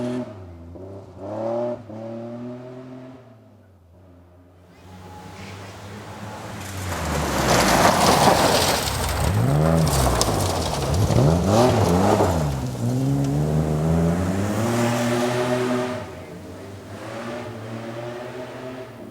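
A rally car on an introductory trial event slides around a corner, then revs hard and accelerates back down a hill, its engine note rising and falling in loud, close surges over gravelly noise.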